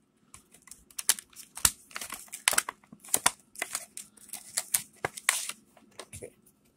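A knife slices open a foil Pokémon card pack up close, making an irregular run of crisp clicks, scratches and crinkles with short pauses between them.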